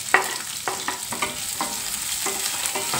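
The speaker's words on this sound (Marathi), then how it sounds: "सर्व कांदा असा ब्राऊन कलर होईपर्यंत आपल्याला तेलामध्ये परतून घ्यायचं आहे।" Chopped onions fry in oil after curry leaves, sizzling steadily as a spoon scrapes and turns them in rhythmic strokes, close up with no voices.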